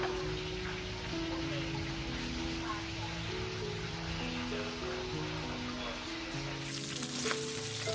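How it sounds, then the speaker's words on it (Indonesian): Steady, crackling sizzle of chicken frying in hot oil, close and continuous, with a faint hum underneath. "Terus ini lanjut aku goreng ayam, sisa ayam juga, ayam kecap."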